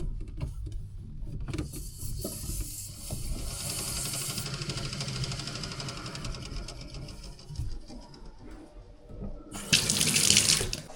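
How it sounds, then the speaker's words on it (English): Water rushes and splashes steadily from a household tap as the mains supply to a shower's plumbing is turned back on, with a louder hissing burst near the end. "Should be able to turn the water mains back on."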